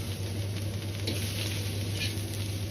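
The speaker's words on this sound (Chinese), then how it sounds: "先倒入白菜幫煸炒" Napa cabbage stems sizzle in hot rapeseed oil as they are stir-fried in a wok, giving a steady, dense crackle with light scraping and no voices.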